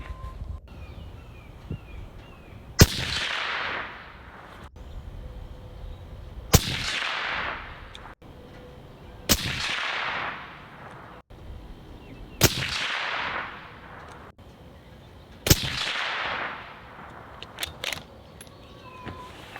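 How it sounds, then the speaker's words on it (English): Five rifle shots fired for a group with a SIG scope mounted, each a sharp crack spaced a few seconds apart with quiet outdoor ambience between them. "All right, 5 shots for a group here, fam."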